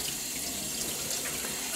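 Running water rinses acid off an aquatint etching plate, pouring in a steady, continuous hiss from a tap, close and alone without voices.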